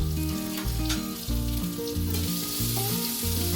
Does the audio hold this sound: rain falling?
no